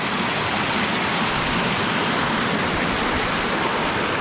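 Loud, continuous rushing of the Middle Fork Snoqualmie River near North Bend, Washington, heard up close as a dense, even torrent without any talking.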